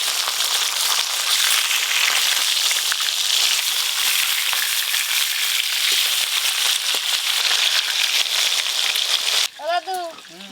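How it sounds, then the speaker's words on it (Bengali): Pieces of rohu fish fry in hot oil in a pan with a loud, dense, continuous sizzle and crackle. A voice briefly speaks near the end. "মাছগুলো ভালো করে ভাজা হয়ে গেল, আর ঝোলের জন্য মাছগুলো এরকম করে ভাজলেই হবে।"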